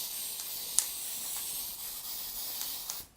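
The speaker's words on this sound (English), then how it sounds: "So spray over the stencil" A spray can sprays paste over a stencil in a continuous soft airy hiss with a few faint clicks, steady and close, then stops at the end.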